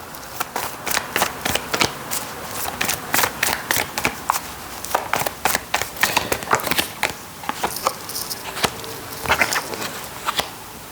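Playing cards are shuffled and handled in quick, crisp bursts of riffling and flicking, close and fairly loud, continuing in an irregular rhythm throughout.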